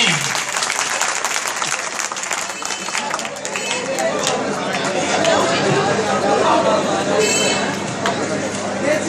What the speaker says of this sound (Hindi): हजरत तालियों से पुरजोर इस्तेमाल कीजिए।